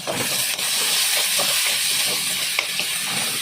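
Garlic, onion and ginger sizzle in a hot pan for shrimp with bitter gourd, a steady close hiss with small crackling pops throughout and no talk.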